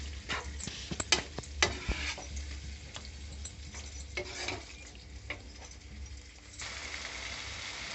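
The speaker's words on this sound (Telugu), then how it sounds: "ఈ మటన్ ఇగురండి 10 నిమిషాలు లో ఫ్లేమ్లో గుత్తంగా అయ్యే వరకు వేపుకోవాలండి" Mutton iguru frying over a flame while being stirred, with steady sizzling and repeated scraping strokes of a spoon against the pan, close and clear, no talking.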